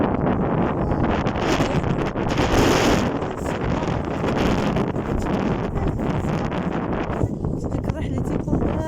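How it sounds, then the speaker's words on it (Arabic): Cold wind buffets the microphone outdoors in chilly weather near a dam, a loud, steady roar of gusts throughout. "ديك الريح اللي تيكون بارد تيضرب الوجه."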